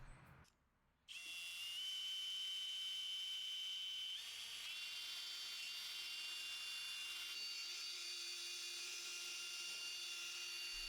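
A power sander fitted with a P500 sanding disc works a yellowed, faded car headlight. After a short quiet gap, its high steady whine runs continuously, close and loud, with no voices.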